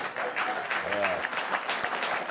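Studio audience applause on a political news commentary show, a steady wash of clapping that runs the whole time with a voice speaking over it partway through.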